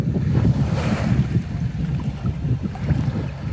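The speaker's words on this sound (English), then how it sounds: "On a calmer lake, standing would be fine, but these waves are a bit much." Lake waves slosh and lap against an inflatable kayak, a Goplus 12.5-foot model. The low, uneven splashing comes close to the microphone and is mixed with buffeting wind, with no talk.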